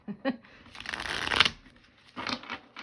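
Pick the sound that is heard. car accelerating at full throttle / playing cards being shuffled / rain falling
playing cards being shuffled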